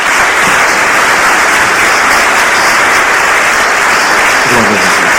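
A church congregation gives loud, sustained applause during a service, a dense wall of clapping close and constant, with a faint voice surfacing near the end.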